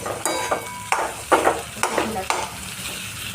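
Soft boiled potatoes being stirred into a masala in a pan for a potato chutney, with rhythmic scraping strokes roughly every half second over a gentle sizzle, close and fairly loud, no talking.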